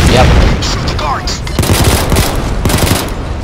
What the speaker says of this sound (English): Oh, that was some explosion.